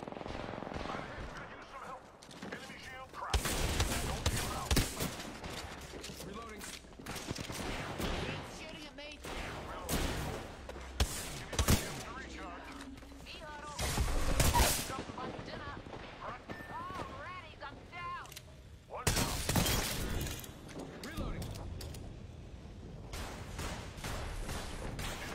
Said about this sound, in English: All you heard was splat when I got a headshot.